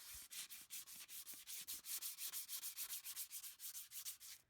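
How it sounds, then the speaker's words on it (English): Steady rhythmic sanding of a 2014 Ford F-150 exhaust with 220-grit sandpaper, quick back-and-forth strokes close up, a dry rasping scrape repeating about five times a second. "I'm gonna start sanding it"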